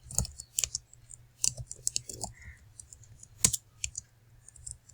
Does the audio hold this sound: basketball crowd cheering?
no